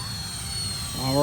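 Twin 64mm electric ducted fans of an E-flite A-10 Thunderbolt II RC jet flying slowly, a steady whooshing whine with a rising tone near the end, heard alongside background talk.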